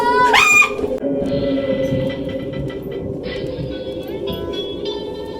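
At a ghost town walkthrough attraction in Virginia City, Nevada, a train sound effect plays as a steady rumbling rail clatter. A voice calls out over it briefly at the start.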